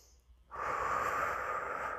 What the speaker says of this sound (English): You're breathing in.